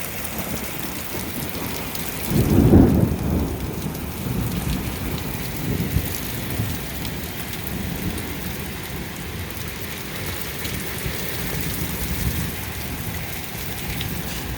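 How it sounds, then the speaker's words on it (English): A heavy thunderstorm pours steady, hissing rain while a deep rumble of thunder swells early on and rolls away, leaving dense rainfall to continue alone. "Man, this is some crazy thunderstorm."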